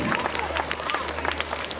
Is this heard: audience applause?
yes